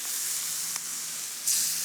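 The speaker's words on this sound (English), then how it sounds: "You see them sizzling?" Skirt steak fajitas sizzle in a cast iron pan with a steady, bright frying hiss close by, a brief tap midway and a louder burst of spitting near the end, with no talking.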